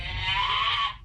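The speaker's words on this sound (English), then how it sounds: "That's a cat." A cat gives a single drawn-out, loud, tonal yowl lasting about a second and then fades away.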